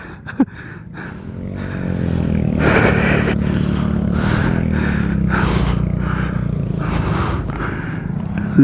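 Two Bullet motorcycles jammed together on a rough mountain road rev and strain in a loud, close, uneven engine drone, with clattering scrapes and sharp knocks at the start and end.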